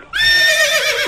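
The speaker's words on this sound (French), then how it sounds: "on vient d'entendre un cheval, maintenant" A horse whinnies once, loud and close, a single drawn-out neigh that starts sharply and trails off, heard on its own with no talk.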